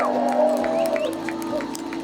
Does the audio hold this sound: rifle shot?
no